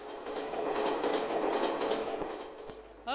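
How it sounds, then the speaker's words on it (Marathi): A superfast train effect played at a game event, a steady loud rumbling clatter of rolling rail cars running continuously for about three seconds before cutting off abruptly. "बिचारी रेल्वेनं सुपरफास्ट चालली होती"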